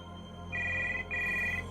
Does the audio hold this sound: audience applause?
no